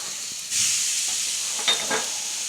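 A beef steak for a Vietnamese beef salad hits a hot pan and breaks into a loud, steady hissing sizzle with a couple of small pops.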